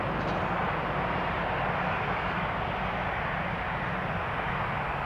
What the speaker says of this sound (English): Dreamliner off to Amsterdam